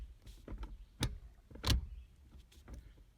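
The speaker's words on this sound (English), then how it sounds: "Upgrading those bushings really helped. It is super, just goes right into each gear." A 6-speed gear shifter in a JDM v7 STI drivetrain swapped into a 2002 WRX, with upgraded bushings, clicks into gear as a couple of short, close mechanical clunks with quiet handling noise between them.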